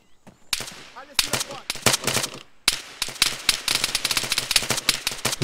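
Rapid gunfire in the ArmA 3 video game during a cooperative mission, sharp repeated shots and bursts crackling in quick succession, loud and close with brief pauses between volleys.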